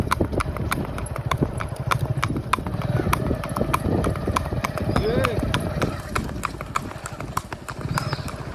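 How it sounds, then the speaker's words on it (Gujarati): Horse hooves clip-clop in a steady walking rhythm on hard ground while a rider sits in the saddle, with a brief whinny and people talking nearby. "ઘોડો હાલે જોવો તમે, ડાબનો અવાજ આવતા છે."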